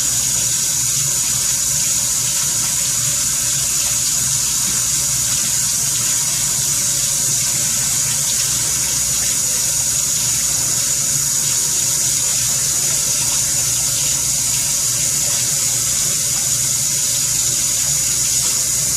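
Water runs steadily from a tap into a sink, a constant hiss and splash lasting throughout with no one speaking.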